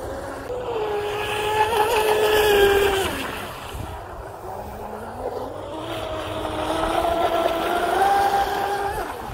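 A Blackjack 24 RC boat with an upgraded flex cable and strut, water-cooled motor, whines steadily on the water, pitch rising and falling as it speeds up, turns and passes at moderate distance.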